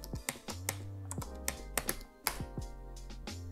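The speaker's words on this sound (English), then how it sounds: "now we can type git status again" Fingers tap out a command on a computer keyboard in a quiet room, a quick irregular run of a dozen or so crisp, close key clicks.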